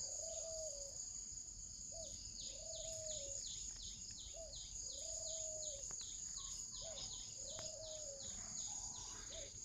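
A spotted dove coos in short, rhythmic, repeated phrases at an even pace, moderately close, over a steady high insect drone and faint chirping.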